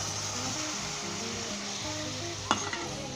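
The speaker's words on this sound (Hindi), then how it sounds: "और 1 मिनट के लिए से फिर आप अच्छे तरीके से फ्राई कर लें।" Korma masala with yogurt for shahi paneer kofta korma fries in a pan with a steady, close sizzle. A brief clatter of stirring breaks in near the end.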